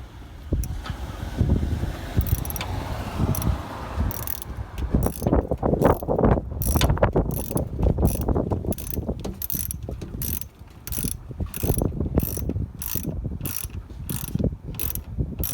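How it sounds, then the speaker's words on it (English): On a 2010 Subaru Forester, the battery ground terminal is tightened with a ratchet, giving a rapid run of close, sharp metallic clicks in bursts after some initial fumbling, with no talk over it. "Now you're going to tighten down the ground."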